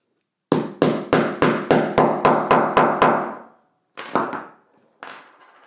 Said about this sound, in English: this right here is the bar that you hammer down